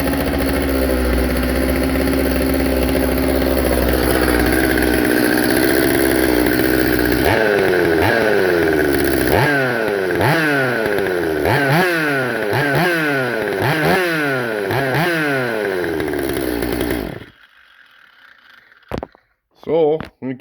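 A Stihl MS200T chainsaw, its carburetor just repaired for bogging, runs loud and close: a steady high idle, then a string of about ten sharp throttle revs rising and falling in rhythm before it cuts off, followed by a few faint clicks.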